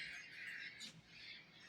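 A pet myna bird gives harsh, scratchy squawks, fairly quiet and continuous, with a brief sharper burst partway through and no voices over it.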